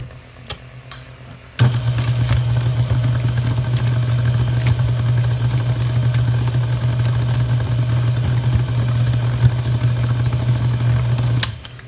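Electric hand mixer on low speed blending zucchini muffin batter with walnuts and semi-sweet chocolate chips, a steady loud motor hum starting after a short quiet lead-in and running evenly until it cuts off near the end.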